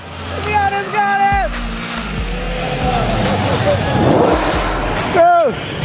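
A Mazda Miata revs hard during a burnout at a crowded car meet, its engine note rising and falling in repeated surges under rumbling noise, with excited voices shouting close by.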